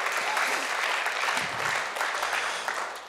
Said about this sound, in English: let's give him a hand clap for it